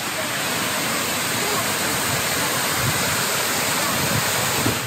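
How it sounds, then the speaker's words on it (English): Steady roaring rush of a waterfall in Antipolo City, Philippines, loud and continuous, with dense broadband water noise throughout and no talking. "it's a beautiful waterfall"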